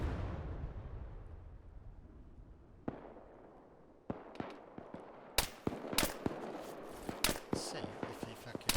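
Gunfire in the video game ARMA 3, sharp cracking shots that start sparse and grow into a dense irregular volley, some loud and close, over a quiet background.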